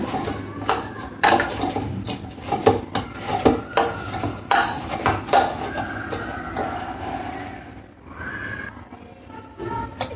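Rice flour dough stirred and mixed in a pot, with irregular scraping and clinking of a utensil against the metal, close and moderately loud, alone without talk.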